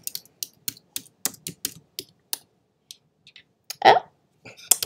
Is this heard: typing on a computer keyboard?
yes